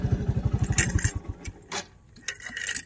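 A TVS motorcycle engine chugs in a quick, close, pulsing rhythm before cutting off, with a few clattering knocks afterward and no talking.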